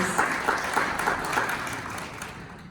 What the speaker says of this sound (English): Yes, I see applause for all of you.